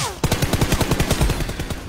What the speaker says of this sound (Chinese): 看到没，敌人先开枪